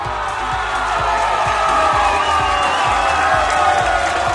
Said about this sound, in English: we're gonna cheer and clap right through the audio issues.